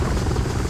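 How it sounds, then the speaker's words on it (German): Helicopter in Call of Duty Modern Warfare 3 multiplayer, a loud, close, continuous rotor thrum and engine whine filling the brief moment alone. "Verbündeter Überwachung Heli im Anflug."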